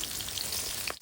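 Dried red chillies, green chillies and onions frying in hot oil for a Bengali dish, a steady close crackling sizzle with no talk.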